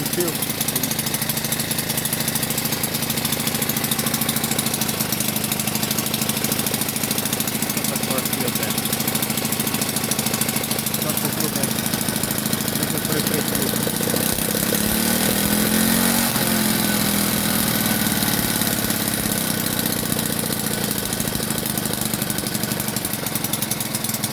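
A Delta moped's small engine runs steadily at idle, a constant close buzzing drone with a rattling, knocking edge and a slight rise in pitch midway, lasting the whole stretch without a break.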